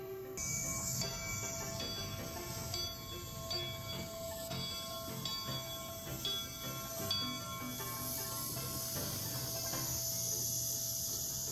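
A model steam locomotive, the Jupiter, runs slowly past with a continuous whistle-like tone and chuffing hiss, steady and fairly close throughout.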